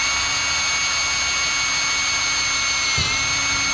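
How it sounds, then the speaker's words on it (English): A power drill whines steadily and loudly while boring a hole through the bed rail of a GMC Sierra Carbon Pro truck, a constant high-pitched drone with a small thump near the end, no talking. "So then let's drill the hole."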